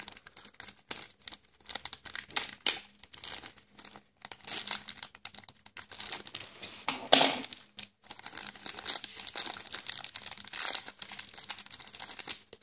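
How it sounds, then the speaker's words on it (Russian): A crinkly plastic Kinder Surprise toy packet being handled and torn open up close, with bursts of rustling and crackling over several seconds. "Аккуратненько открываем пакетик."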